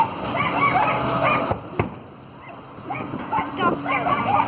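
A dog whimpers and yips in short bursts at a world firework championship display, mixed with crowd chatter and people talking nearby, with a sharp bang near the middle.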